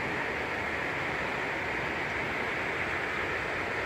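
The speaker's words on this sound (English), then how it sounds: "The creek." Creek water flows steadily beneath the Switzer Covered Bridge in Franklin County, Kentucky, a broad continuous rushing wash that stays even and close throughout, with no talk.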